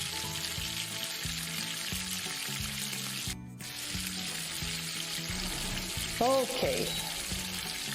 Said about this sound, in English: Let it simmer for a while.